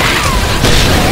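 A Molotov cocktail bursts into flame in Left 4 Dead 2, a loud, dense roar of fire and blast noise that holds steady through the whole short moment amid game clamor.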